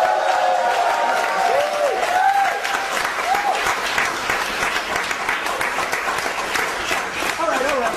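A live audience in Paris applauds steadily, a dense wash of clapping with scattered whoops and cheers, while voices carry on talking over it.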